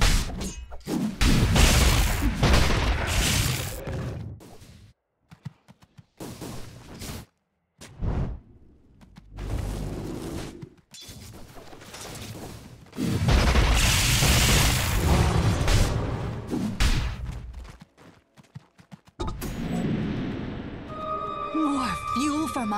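In Dota 2, a tower is destroyed amid heavy match action, with booming impacts, shattering crashes and whooshing spell effects mixed with announcer voice lines and bursts of game noise.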